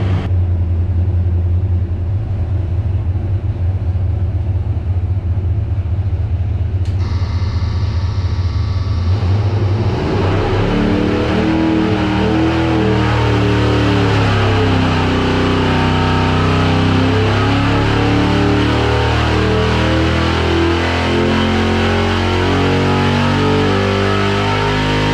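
A 496 cubic inch big block Chevy V8 with a Brawler carburetor running on a dyno, idling loudly at first and then revving up into a sustained, roaring high-rpm pull.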